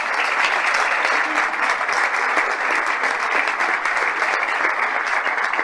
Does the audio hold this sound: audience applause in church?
yes